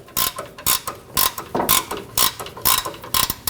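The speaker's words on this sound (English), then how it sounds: "Using a 21mm wrench for our nut. We're going to loosen it." A 21mm wrench working a nut loose on a 2003-2025 Chevrolet Express 2500 suspension, giving a rapid series of sharp ratcheting clicks in short bursts, close and fairly loud, with no talk.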